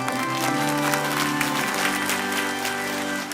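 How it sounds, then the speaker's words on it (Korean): A church congregation stands and claps together during a service. The clapping is continuous and moderately loud, with sustained musical tones underneath. "다 같이 일어서서 박수 치면서."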